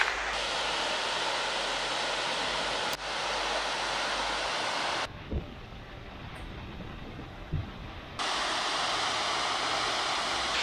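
Skogafoss waterfall in Iceland roaring close by, a dense, constant rush of falling water that cuts out abruptly for a few seconds midway, with a couple of low thumps, then returns at full force.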